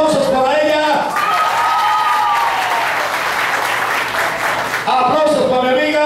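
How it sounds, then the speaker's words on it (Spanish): Enthusiastic audience applause at a singing contest awards ceremony, a dense wash of clapping and cheering that swells between talk from a host at the start and end. "Bueno, tenemos tres. Aplausos para ella"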